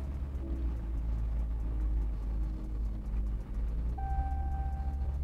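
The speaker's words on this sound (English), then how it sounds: "you can go ahead and hop in the truck, turn it on, and you'll actually drive forward that 30 to 40 feet" A truck driving forward 30 to 40 feet for a chalk-line tire pressure test, heard as a steady, low engine rumble from inside the cab, with a brief tonal whine near the end.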